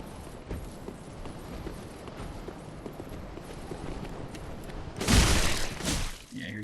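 Footsteps of an enemy approaching in Dark Souls III, heard as a soft, irregular patter under steady background ambience, ending in a sudden loud crashing impact near the end.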